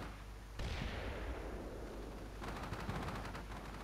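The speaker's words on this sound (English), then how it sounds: "It's a big machine gun." A big machine gun on a BTR in the war game Combat Mission: Shock Force 2, heard as a distant boom followed later by a quick rattling burst of fire, faint and far off.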